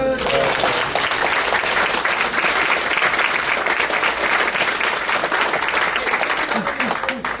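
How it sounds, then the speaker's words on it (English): Workshop audience applauding, dense sustained clapping from many hands filling the room at a loud, even level from start to finish. "Another round of applause."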